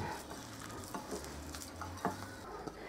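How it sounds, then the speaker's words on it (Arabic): An egg yolk being stirred and mixed in a bowl, with a steady wet stirring and light scraping texture and a few brighter clinks of utensil against the dish, no talking. "ناخذ واحد صفر بيضه ونمزجو جيدا"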